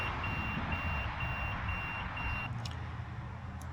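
Evenly pulsed high beeps from the low oil warning alarm on a 1996 Mercury 115 HP outboard repeat steadily for a few seconds over a low hum, then stop, followed by a couple of faint clicks.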